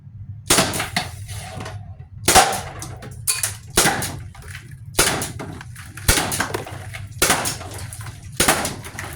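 A T4E SW MP9 marker fires 11 mm steel balls at a target, six loud sharp shots spaced at roughly even intervals, each cracking with a metallic impact and a short ringing tail.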